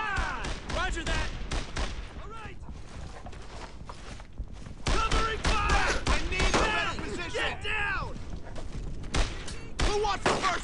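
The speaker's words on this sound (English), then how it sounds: "they're shooting at me!" Gunfire in the shooter Brothers In Arms: Earned In Blood: repeated sharp cracking shots and bursts come through in clusters, mixed with heavy thuds, while soldiers shout over the battle.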